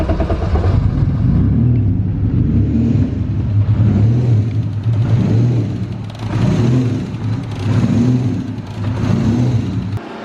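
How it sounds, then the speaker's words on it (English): Turbocharged BMW M52 engine in an E36 on a dyno, hunting for idle without an idle control valve: a loud, close low rumble that repeatedly swells and dips in slow waves, with no voices. "It does that because I don't have an idle control valve, so it kind of does the hunt for idle."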